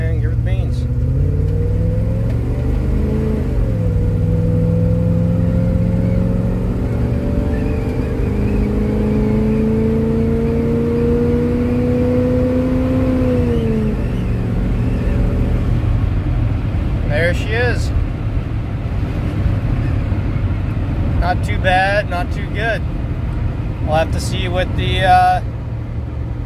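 Small-block Chevy car with a stock TBI setup accelerating hard from a standstill toward 60 mph, its engine note rising steadily through gears with a shift dip, loud and close, then settling to cruise with brief clicks and knocks near the end.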